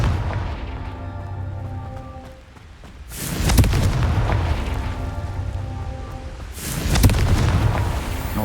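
Confringo explosion spell in Hogwarts Legacy: two heavy booming blasts a few seconds apart, each a sharp crack followed by a rumbling decay over a low background hum, with no voices.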